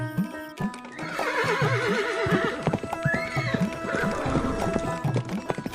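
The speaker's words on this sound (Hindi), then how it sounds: "घोड़ा वायु वेग से उड़ने लगा।" A horse whinnies loudly and gallops with steady clip-clop hoofbeats as a storytelling sound effect, the neighing rising over the rhythmic hooves throughout.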